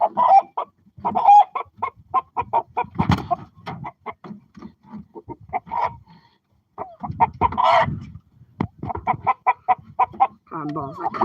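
Chickens cluck in short repeated bursts, close by, with a brief quiet gap midway and some low handling noise mixed in.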